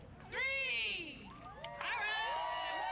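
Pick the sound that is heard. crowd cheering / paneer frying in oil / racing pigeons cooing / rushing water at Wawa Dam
crowd cheering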